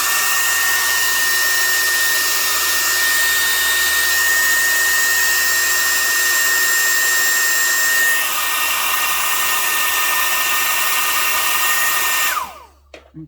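A hair dryer runs steadily and loudly for about twelve seconds, drying a junk journal page made with playing cards, then switches off with a falling whine.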